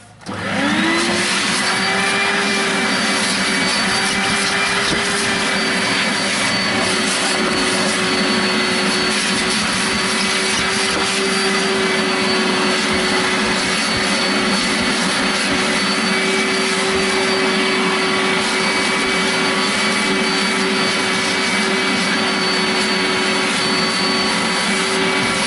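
A vacuum cleaner runs steadily at close range while cleaning a car's interior carpet and seats, a loud continuous whine and roar that starts abruptly and holds for the whole stretch, with no voices.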